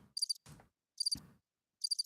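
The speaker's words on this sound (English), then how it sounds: "they in the house, quiet, crickets" Crickets chirp in short, high trilled bursts that repeat three times, separated by soft low thumps and quiet gaps, faint and close with no talking.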